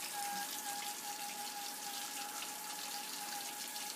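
Common tap water pours steadily onto food in a continuous, moderately loud splashing stream that lasts the whole moment, with a faint steady tone beneath it.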